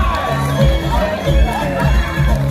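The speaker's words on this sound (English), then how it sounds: "Give Steve a big round of applause!" A live audience at a Universal Studios Florida show cheers and claps for a performer named Steve, loud and close, with shouting voices and thumping music over the crowd noise.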